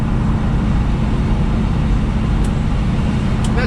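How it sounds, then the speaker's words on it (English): An old car drives along, its motor droning low and steady under a faint whine from the transmission, loud and continuous from inside the car. "you can hear the motor, you can hear the transmission. It's making a little bit of a whiny noise."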